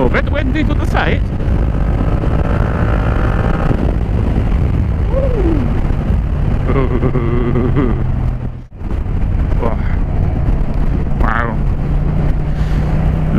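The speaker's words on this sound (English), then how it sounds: "a bit windy to the side" Strong crosswind buffets the microphone in a constant roar while riding a motorcycle on Treorchy roads, with engine hum and occasional voice fragments underneath.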